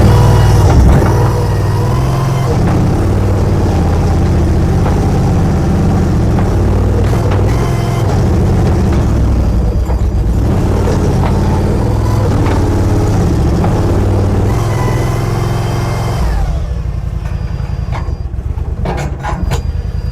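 A CFG KRW232 skid steer loader runs its engine, a loud, steady diesel rumble that surges and shifts as the machine moves jerkily, then drops to a quieter, rougher idle near the end.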